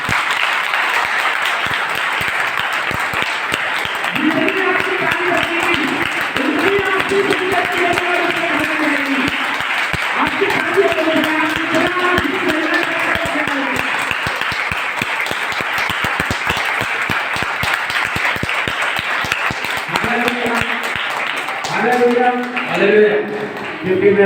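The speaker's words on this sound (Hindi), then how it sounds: "आपकी तालियों से पता चलेगा।" Steady applause from a church congregation runs throughout, a continuous wash of clapping with voices rising over it in several places.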